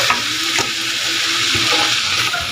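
Crabs dropped into hot oil fry with a loud, busy sizzle and spitting crackle, close up, with a few sharper pops and clatters throughout.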